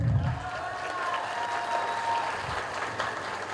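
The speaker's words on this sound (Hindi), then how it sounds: "तो जोरदार तालियां हो सकती हैं।" An audience at a recognition programme in Rourkela breaks into applause, a dense, steady wash of clapping that carries on throughout at moderate loudness.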